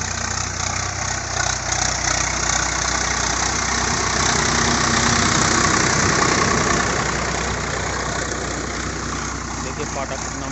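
A Swaraj 744 XT tractor engine idles steadily and close by, a continuous low rumble with a faint knocking texture that holds level for the whole stretch. A voice talks over it.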